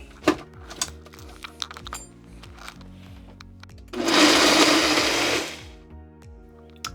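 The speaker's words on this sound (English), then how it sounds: "and into the blender we go" A blender whirs loudly for about a second and a half as it mixes a milkshake, starting abruptly after a stretch of quiet clicks and handling noises and cutting off sharply.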